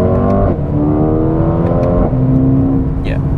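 A 2021 Mercedes AMG A35 accelerates hard from a launch control start, its engine note rising loudly through gear changes and heard from inside the car, with a brief voice near the end.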